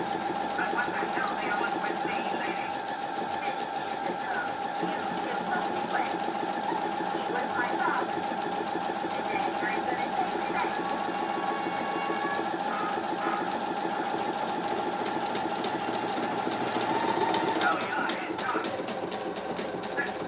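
A Husqvarna sewing machine stitches a buttonhole with a buttonhole foot over stabilizer, a continuous close mechanical whir and rapid needle rattle lasting the whole stretch, with a voice speaking over it at times.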